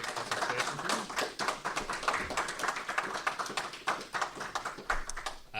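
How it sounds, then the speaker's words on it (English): An audience at a seminar at the Tabletop Scotland 2022 convention claps steadily, a dense patter of many hands sustained throughout at moderate volume, with no voices. "If you give them a big round of applause for their fantastic presentation."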